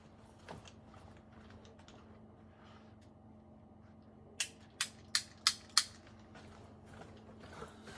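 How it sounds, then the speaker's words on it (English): A metal Gohner roll cap gun fires five sharp, loud cracks in quick, even succession, with a faint click or two before and after. "So this is a great cap gun for a 7-year-old, 5-year-old, okay?"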